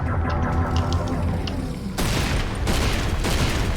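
Gunfire from a weapon in the video game Serious Sam 4: loud rapid shots with booming blasts. A sharper, heavier burst breaks in about halfway through and continues to the end.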